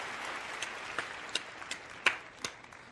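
Faint, scattered audience applause, a thin patter of claps with a few sharper individual hand strikes standing out, heard alone and at a low, distant level.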